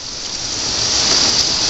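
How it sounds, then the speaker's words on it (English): Heavy rain pours down in a dense, continuous hiss of drops on surfaces. It stays loud and steady throughout and builds slightly, with no voices. "You can see all the damn rain just pouring and pouring"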